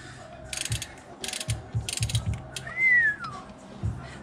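Torque wrench ratcheting and clicking in quick bursts while bolts are tightened during transmission reinstallation on a B20-powered hatchback, with a brief squeaky whine near the middle and no talking.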